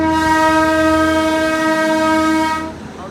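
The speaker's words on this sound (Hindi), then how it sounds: "भाई ये पूरे रास्ते हॉर्न मार के चलती है," Darjeeling toy train sounding its horn, one long loud sustained blast close by that cuts off after nearly three seconds, with faint rail noise underneath.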